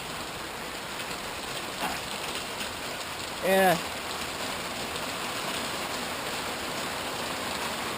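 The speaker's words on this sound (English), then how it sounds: "you can see how it's raining out" Heavy rain pours steadily outside during a thunderstorm, a dense continuous hiss of falling water, with a brief spoken word from a man partway through.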